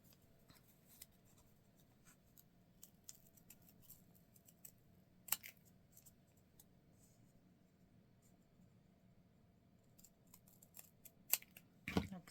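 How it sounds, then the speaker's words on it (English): Scissors snipping a paper leaf shape out for a folded paper poinsettia flower, quiet and close, with faint soft cuts and rustles and a few sharper snips near the end. "Then you're going to go ahead and cut that out."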